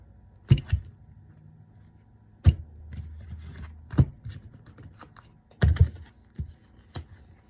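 A deck of large tarot cards is cut by hand in a few separate, close taps and soft thumps of cards striking a surface, with quiet gaps between them.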